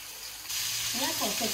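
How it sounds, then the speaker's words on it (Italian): Zucchini slices frying in oil in a pan begin sizzling abruptly and keep up a steady, close hiss, with a voice talking over the sizzle in the second half. "È una cosa che si devono friggere tutti i lati."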